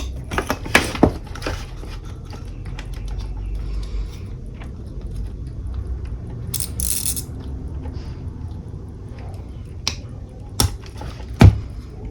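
A knife lightly scraping and cutting away dried paste, with scattered sharp close-up clicks and brief scrapes over a low, quiet background.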